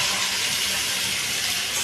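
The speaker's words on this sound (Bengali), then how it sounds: "এবার আমি আলু আর কপি ভাজা দিয়ে দিচ্ছি।" Potato and cauliflower pieces fry in a pan, giving a continuous close sizzling hiss with no talk.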